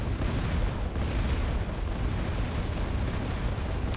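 Continuous heavy rumble of artillery fire and explosions in the strategy game Dawn of War: Dark Crusade, a dense, loud barrage with no pauses, ending in a sharp burst.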